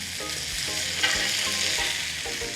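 Beef rissoles frying steadily in a pan, a continuous close sizzle and crackle with no talk.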